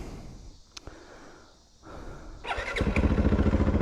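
A 2019 Yamaha WR250F dirt bike engine idling, then revving up into a steady pulsing putter, close and fairly loud with no talking.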